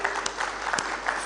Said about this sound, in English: So give a round of applause to Dr.